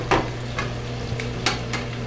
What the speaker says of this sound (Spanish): Aquí tengo ya la carnita, ya se va a guisar. Ya se está guisando.